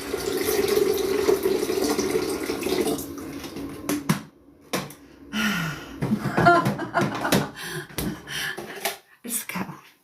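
Water pours from a jug into a kettle in a steady, close gurgling stream for a few seconds, then gives way to scattered splashes, clunks and handling noises as the pouring stops.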